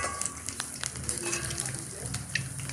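Chicken pakora fries steadily in hot oil in a village kitchen, giving a dense, continuous sizzle and crackle close by, with scattered sharper pops and light stirring clatter throughout.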